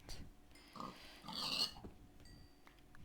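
A pig grunts in the Minecraft video game: a few short, close grunts over quiet game background, with no talking.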